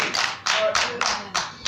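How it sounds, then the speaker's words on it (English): A church congregation claps in a steady, fairly slow beat, four or five loud sharp claps close together with no voices in between. "clap your hands for part 2"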